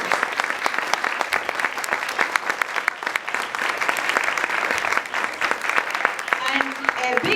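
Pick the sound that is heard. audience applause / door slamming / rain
audience applause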